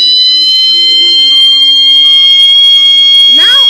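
A float-switch water level alarm circuit rings with a loud, continuous electronic tone that holds steady for several seconds before a brief warbling sweep at the end.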